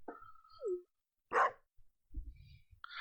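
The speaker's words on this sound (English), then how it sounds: "But at least we have a decent guard dog." A guard dog in the video game Stardew Valley barks a few times, with short sharp yips and one louder bark separated by brief silences, close and clear with no talking.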